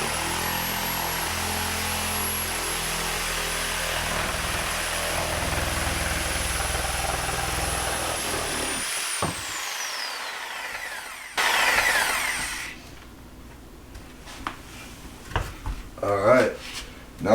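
A saw cuts through dry, rough-sawn pine with a loud, steady whine for about eight seconds, then winds down and stops, followed by quieter handling noises and a few knocks.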